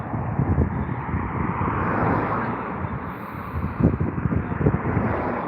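An airliner arriving to land at London Heathrow, a broad, steady roar of jet engine noise with wind buffeting, continuous and fairly loud throughout.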